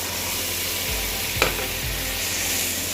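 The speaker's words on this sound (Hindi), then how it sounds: "हम इसको अच्छे से इसमें भून लेंगे मसाले के अंदर" Half-boiled chana dal sizzles as it fries in a pan of tomato masala, with a spoon stirring and scraping through it steadily and close up, and a brief clink in the middle; no one speaks.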